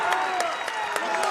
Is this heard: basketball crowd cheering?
yes